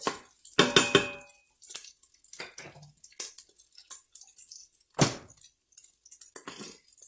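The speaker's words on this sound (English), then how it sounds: "Alright, so we're going to take this bacon out." Bacon lifted out of a Pampered Chef Quick Cooker pot, with scattered wet clinks, scrapes and drips in short bursts, close and fairly quiet, with pauses between.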